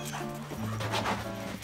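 A dog whimpers and pants indoors, close and fairly loud, with a low tonal whine running through the short moment beside a fridge.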